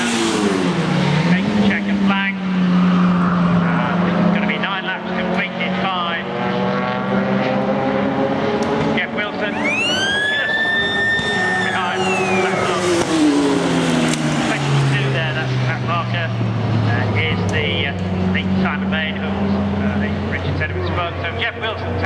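Saloon race cars at Oulton Park's Northern Saloon & Sports Car race roar across the finish line, steady engine drone with rising and falling pitch sweeps as cars pass close by, with a commentator talking over them.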